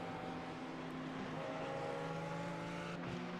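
A Ferrari 488 race car at the Nürburgring in a racing game, a steady loud engine drone with droning harmonic tones, other cars faintly mixed in.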